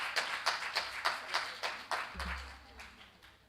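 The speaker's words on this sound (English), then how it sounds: "Can we give him a round of applause?" Audience clapping at an early childhood education teachers' conference panel session, a scattered sparse round of individual claps near the mic, fading as a low rumble enters partway through.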